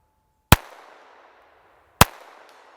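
Two sharp, loud gunshots from a small Ruger LCP II .22 LR pistol fired outdoors at a distant target, spaced about a second and a half apart, each snapping crisply and trailing off in a short echoing decay.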